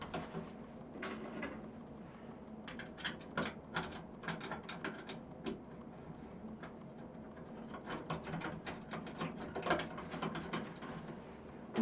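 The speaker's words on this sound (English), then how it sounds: "put the screws back in" Screws are driven by hand into a light switch cover plate, making faint, close, rapid ratcheting clicks and small scraping ticks in uneven bursts with no talking.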